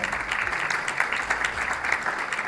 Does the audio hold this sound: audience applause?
yes